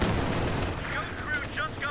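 Machine gun fire rattles in Company of Heroes 2 as a dense, rumbling battle roar with overlapping shots, loud and sustained throughout, with a voice faintly audible underneath.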